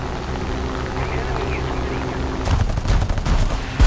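Bursts of 37mm cannon fire from an aircraft in the War Thunder video game: a steady engine drone, then a loud rapid string of gunshots in the final seconds, with a player talking.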